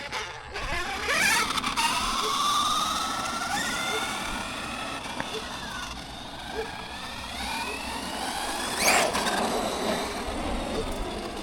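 A 2WD RC car, ARRMA or FMS, run at full throttle on an off-road track, its high motor whine rising and falling with bursts of speed, fairly near, with dogs around and some outdoor noise.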